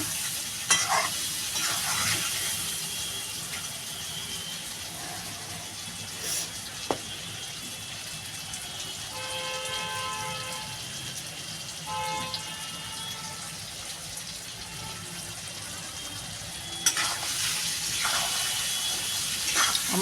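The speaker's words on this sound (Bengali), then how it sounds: "মশলাটা আর চিংড়ি মাছটা ভাজা হয়ে গেছে" Prawns and spices fry in a pan for a Bengali malai curry, a steady soft sizzle that runs throughout, with occasional scraping stirs and a few clinks near the start and end.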